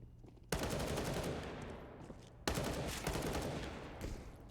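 Two sudden bursts of rapid rifle fire in a Counter-Strike match, each a dense fast string of shots starting abruptly and rattling on for about two seconds, loud and close over quieter background game noise.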